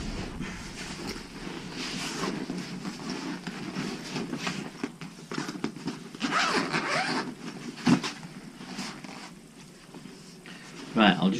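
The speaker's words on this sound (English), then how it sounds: "I'll just unzip the box." A zipper on a box case for a Yuneec Typhoon H Pro drone is pulled open in several rasping bursts, close up, with handling rustles between them.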